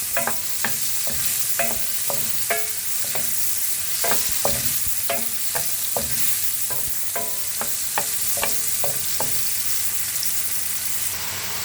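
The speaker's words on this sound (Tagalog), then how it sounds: "Naglagay na ako ng butter at dahil fresh yung ating mushroom, kailangan muna natin iprito dyan." Fresh mushrooms frying in butter in a pan give a continuous close sizzle, punctuated by regular sharp utensil taps and scrapes as they are stirred, with no voices.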